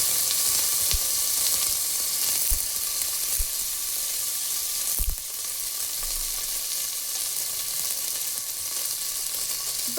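Chopped tomatoes fry in hot oil with onions and shallots for ivy gourd chutney, giving a steady, loud broadband sizzle throughout, broken by a few soft stirring knocks.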